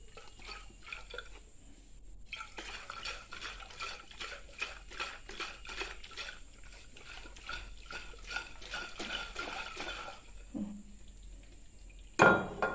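Raw mango pickle being stirred in a cooking pot, with close, steady rhythmic scraping and clinking that runs for about eight seconds and then stops, with no talking.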